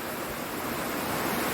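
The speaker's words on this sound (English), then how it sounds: "This is a pretty waterfall." A waterfall on the Appalachian Trail gives a steady, close rushing roar of falling water, broad and constant with no talking.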